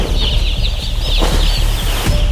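Thousands of chicks being unloaded from a delivery at a poultry farm, a dense, close chorus of high peeping with bursts of fluttering and handling noise, continuous and loud.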